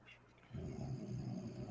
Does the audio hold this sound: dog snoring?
yes